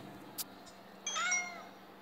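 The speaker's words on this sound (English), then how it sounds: "There is a new cat visiting the house" A single cat meows clearly in the mobile game Kitty Keeper: Cat Collector, a drawn-out rising call that sits close and alone over a quiet background, preceded by a brief click.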